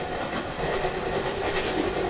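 In the Open Rails/MSTS train simulator game, the Nagpur–Jaipur Weekly Express with broad-gauge coaches rolls along with a continuous, loud, steady rumble and a faint wheel clatter throughout.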